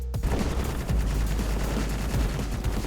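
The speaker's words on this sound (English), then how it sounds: "Come on, autocannons." Dense, continuous automatic cannon fire from autocannons in Space Engineers, a rapid unbroken stream of loud shots with heavy low rumble, running steadily from start to finish with no talk.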